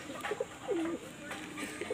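A female white pigeon gives a short, soft coo that rises and then settles, close by, with a low voice murmuring faintly in the background.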